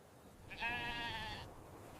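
A single sheep or goat bleats once, fairly close, among a herd grazing in the Thar desert near Jaisalmer, Rajasthan; the wavering call lasts about a second over faint outdoor background.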